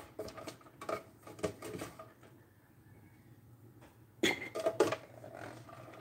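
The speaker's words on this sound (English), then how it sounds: "I'm going to switch out from a whisk to a spoon. And we're just going to keep on stirring it." A spoon scrapes and clinks against a pot while stirring Canadian cheese soup over a medium burner, irregular bursts of metallic knocks with a quieter gap in the middle, no talking.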